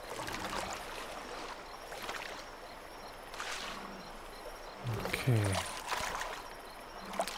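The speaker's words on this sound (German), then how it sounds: "Ich höre das Wasser auf jeden Fall" A stream in the video game The Isle flows and trickles steadily in a nighttime setting, with chirping insects around it and occasional voices talking over the water.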